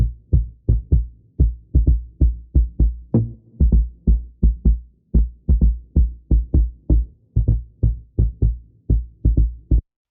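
A mono rhythm bass sample with a touch of reverb in a melodic techno track, thumping in a steady rapid pulse of short, deep, rounded hits with brief gaps, loud and alone.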